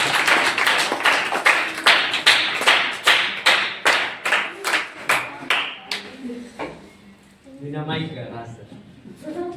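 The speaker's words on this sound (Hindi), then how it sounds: "जोरदार तालियां हो जाए।" Children at a writing competition clap in unison, about fifteen sharp, evenly spaced claps in a loud steady rhythm, then the clapping stops and a voice begins speaking.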